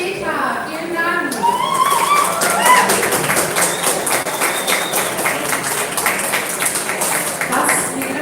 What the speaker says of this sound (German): Ein Applaus für unsere Judges.